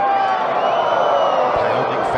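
Loud, sustained cheering and clapping rises from the crowd at an LSU versus Auburn college baseball game, continuous throughout with a commentator talking over it.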